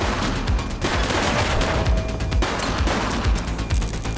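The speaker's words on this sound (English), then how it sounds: "Shots fired!" Loud, dense gunfire in a police shootout in the video game The Precinct, with rapid overlapping shots and bursts firing continuously, close and uninterrupted.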